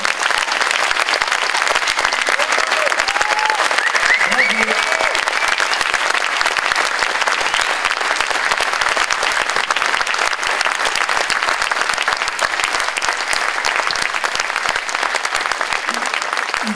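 Sustained audience applause for a children's class orchestra after a concert in Gorron, steady dense clapping from a large crowd lasting throughout, with no break or voices standing out.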